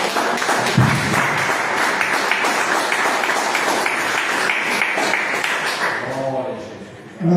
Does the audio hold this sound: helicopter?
no